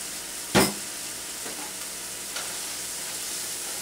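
Freshly chopped garlic dropped into a hot pan for spinach, giving a brief loud sizzling burst followed by a steady low frying hiss and a couple of faint stirring scrapes.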